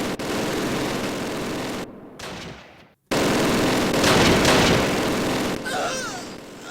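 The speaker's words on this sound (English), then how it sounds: "Let's bring in some 60mm mortar support." 60mm mortar fire and explosions in the Close Combat WWII game at Mortain, loud sustained blasts and crackling gunfire that break off briefly, then return with heavy rumbling impacts.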